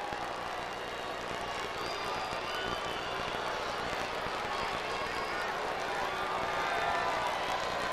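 A ballpark crowd at a Royals at Rangers game reacts as Juan Gonzalez comes up to bat, a continuous, broad roar of voices with faint whistles, steady and sustained throughout under a commentator's voice.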